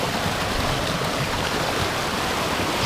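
A mountain stream rushes steadily near waterfalls in Skútudalur, a constant broadband roar of flowing water, close and fairly loud, unbroken and with no voices.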